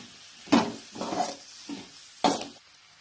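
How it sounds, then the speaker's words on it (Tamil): Chopped tomato sautéed with an egg rice mixture in a pan, heard as four distinct scraping stir strokes with soft sizzling between them, close and fairly loud, with no voices. "இது கூட நம்ம ஒரு தக்காளி கட் பண்ணி வச்சிருக்கோம், அதையும் கூட சேர்த்தி நல்லா வதக்கி விட்டுறலாம்."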